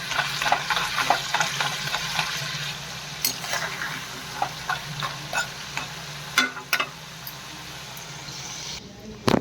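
French fries frying in oil in a home kitchen in the evening give a steady close sizzle, with scattered crackles and pops and a few sharper clatters, and no talking over it.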